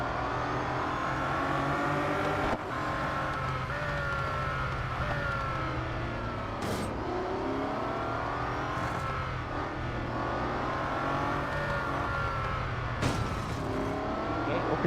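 Race cars on a circuit in Real Racing 3, including a Bugatti Centodieci, roar continuously as engines rev and shift through gears. Rival cars pass close by with a dense, loud whine.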